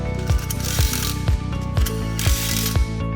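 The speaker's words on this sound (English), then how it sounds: "Install wheel hub screws using the diagonal mounting method." A ratchet wrench tightens wheel hub screws with loud, close mechanical clicking, the pawl rattling steadily between six heavier strokes spaced about half a second apart.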